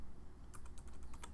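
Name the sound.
typing on a computer keyboard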